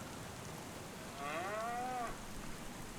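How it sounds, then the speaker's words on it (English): A cow in the Farming Simulator 25 game lets out a single drawn-out moo, fairly distant and mid-level, over a steady rain-like background hiss. "We have cows."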